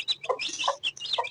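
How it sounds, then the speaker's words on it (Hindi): A sick, weak baby chick peeps in short, high, scratchy bursts, several calls in quick irregular succession, close and alone. "ये बेचारा बीमार हो गया है चूजा"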